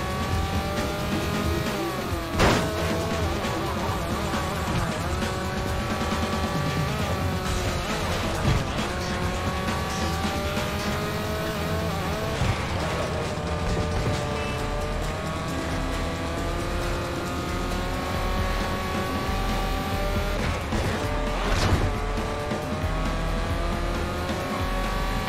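Racing car engine and tires in 007 Everything or Nothing, a sustained loud engine drone rising and falling in pitch through gear changes and revs, with occasional tire squeals, continuous and close.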